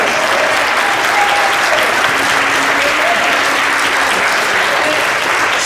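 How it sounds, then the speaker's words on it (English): A church congregation at a Hmong Christian Life Center open house claps loudly and steadily for several seconds. The continuous, even applause fills the room, with faint voices mixed in. "Clap your hands for what you found when you found the church."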